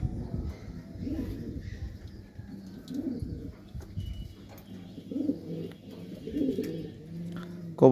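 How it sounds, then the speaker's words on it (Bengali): Racing pigeons in moulting season coo repeatedly in low, throaty phrases outdoors, fairly close, with faint chirps and a brief flutter near the end. "কিছু কবুতর একটু আকাশে উড়ছে, 2-4 মিনিট উড়ার পরে নেমে গেছে।"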